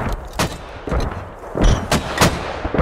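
Mortar barrage in the video game Squad, a series of sharp booming blasts at irregular intervals, some near and loud, others softer, with no talk over them.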